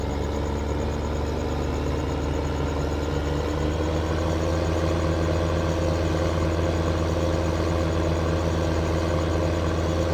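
A tractor engine idles in Farming Simulator 15, a steady, even, low mechanical drone that runs unchanged throughout, with no voices.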